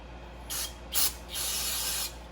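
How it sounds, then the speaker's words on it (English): Three short hissing bursts of brake parts cleaner sprayed onto a rag, close by, the last one longest, with quiet gaps in between. "Just going to spray a bit on a rag."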